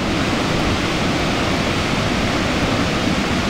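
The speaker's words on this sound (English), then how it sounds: "Look at that massive roaring waterfall." The overflow at the Slab Creek Reservoir dam pours over as a massive waterfall, a steady, dense, full-bodied roar heard close up with no break and no voices.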